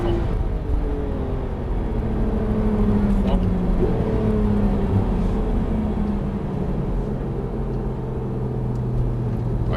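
A Porsche 991 GT3 RS on the Alès circuit, engine droning steadily from inside the cabin with shifting pitch as it accelerates and brakes, a loud continuous rumble under talk.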